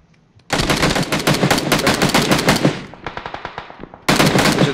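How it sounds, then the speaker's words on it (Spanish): Gunfire in the battle royale game PUBG: long bursts of rapid automatic fire, loud and close, with a brief pause, a stretch of quieter shots, then another heavy burst near the end. "Muchos disparos aquí, mira."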